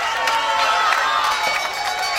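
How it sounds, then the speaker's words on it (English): A boxing crowd cheers loudly at a fight in Llanelli, a dense, steady roar of many voices with scattered shouts rising through it and no break in the noise. "A big cheer go up from the fans here in Llanelli."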